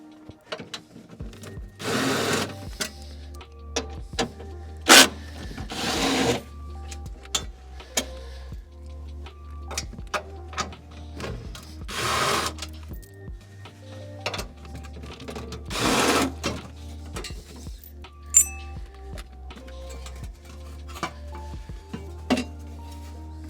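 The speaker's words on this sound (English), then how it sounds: "to remove the panel, we need to remove a few M6 bolts that use a 10mm socket" A 10mm socket wrench removing M6 bolts from a suspension panel on an NA Miata, with rapid ratchet clicking, metallic clinks and occasional louder knocks, close and without talk.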